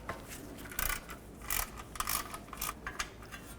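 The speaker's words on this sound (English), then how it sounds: "use a 10mm socket, take this bolt out" Ratchet wrench with a 10mm socket working a bolt loose from the heat shield of a 2007-2014 Chevrolet Silverado 2500 HD, heard as several bursts of quick clicking with short pauses between them, fairly close and with no talking.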